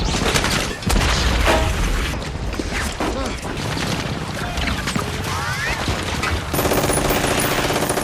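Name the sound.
film machine gun fire and explosions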